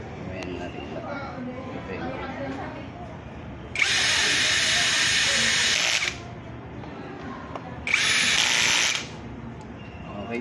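Two bursts of a power screwdriver drive screws, the first about two seconds long and the second shorter, with a high whirring buzz. Quieter talk and handling noise fill the gaps between them.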